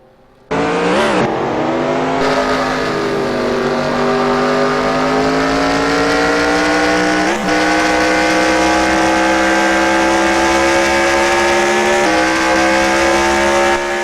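Racing trucks on the Nazareth track roar up close after a sudden start, with a sustained loud engine drone rising in pitch through the gears and a couple of brief shift breaks, and no talk over it.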